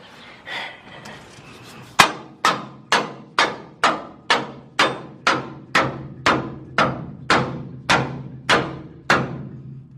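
Hammer blows drive a lowering-kit notch onto the frame of a 1995 Chevy OBS truck, about fifteen sharp metallic strikes in a steady, even rhythm, loud and close, with no talk over them.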